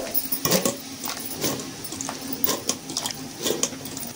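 Sliced bottle gourd is washed by hand in water, with soft splashes, sloshing and irregular clinks against a vessel, close and moderately quiet, no speech.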